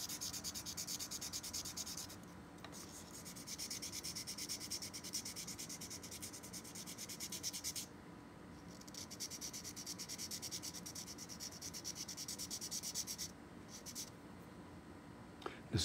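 Glass crystal clarinet mouthpiece sanded on 220 grit sandpaper: steady, close back-and-forth scraping strokes in long even passes with brief pauses between, heard alone without talk.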